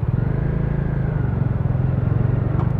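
Three-wheeled motorcycle ridden by a wheelchair user, its engine running with a steady low pulsing rumble close by, one brief higher whine near the end, no talk.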